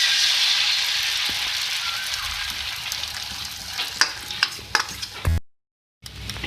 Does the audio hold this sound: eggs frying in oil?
yes